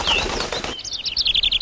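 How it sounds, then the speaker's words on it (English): A wren's wings flutter in a quick burst as it lands on a rose stem, close and clear, followed by a run of high chirping bird calls. "a wren lands beside her"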